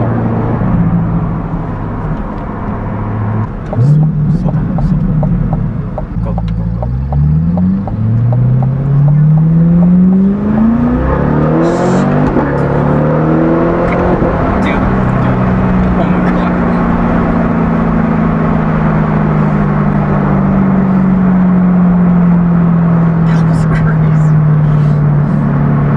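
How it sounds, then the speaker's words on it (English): C8 Corvette fitted with a Blue Attack air filter, engine and exhaust revving up and down with rising and falling tones, then a long steady drone, loud and close with a voice talking over it. "let's just listen to this exhaust a bit more"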